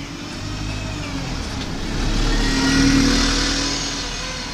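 Number 26 bus passing close by on a street in Newport, Wales, its engine rumble swelling to a peak around the middle and then fading as it moves away.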